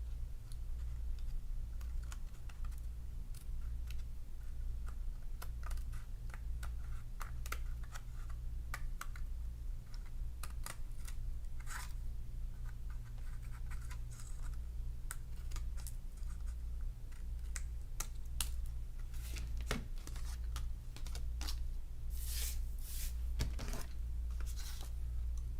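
Scissors trim excess paper from a handmade Stampin' Up Paper Pumpkin card, giving quiet, scattered snips and scratchy clicks over a low steady room hum.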